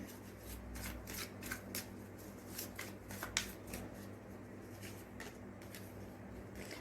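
Oracle cards being shuffled and drawn from a deck, a run of quick papery riffles and flicks close up, with no talk.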